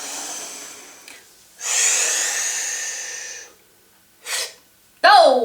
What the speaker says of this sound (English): Let's try to cool it down with some pranayama breathing.